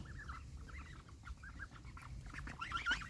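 Domestic ducks kept at home call over and over in short, nasal bursts, quiet and fairly close, above a low steady background rumble.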